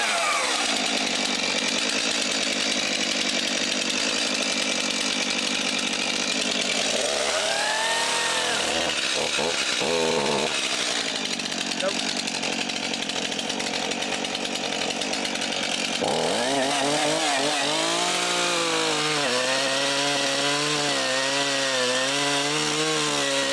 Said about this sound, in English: So we persevered with the chainsaw,